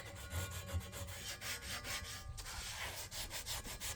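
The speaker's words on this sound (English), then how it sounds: "scrub it all up. Start working it in. Get all the grooves in the corners." Rhythmic back-and-forth scrubbing on a cast iron pan being restored, quiet abrasive strokes repeating at an even pace with a brief pause midway, no talking.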